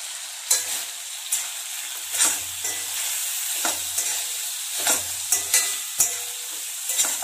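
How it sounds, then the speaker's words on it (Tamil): Country chicken fry with ground spice powders is stirred in a pan, giving a soft continuous sizzle broken by about ten sharp, close scraping strokes of the spoon at an irregular rhythm, with no talk. "சேர்த்துட்டு இதையும் நல்லா கிளறி விட்டுருங்க."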